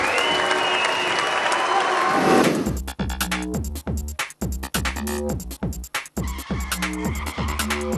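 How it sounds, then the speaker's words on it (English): Applause rises from the crowd at a Muay Thai bout for fighter Mark Beale, a dense burst of clapping for about two and a half seconds, then abruptly gives way to choppy, stuttering tonal sounds with rhythmic gaps. "Ladies and gentlemen, please show a big round of applause, please."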